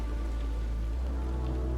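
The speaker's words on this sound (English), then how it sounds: "The wind returned along with the rain." Steady rain pours on a surface as a sound effect for a scary story, a dense continuous hiss with low rumble filling the moment without pause.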